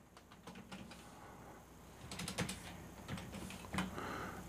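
Fairly faint, quick clacking of computer keyboard keys in irregular bursts as a camera name is typed in, with no talking.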